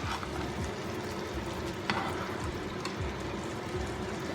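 Honey glazed salmon frying in a pan on moderate heat while being basted, giving a soft steady sizzle with faint spoon scrapes and small splatter ticks, heard close and quietly without talk.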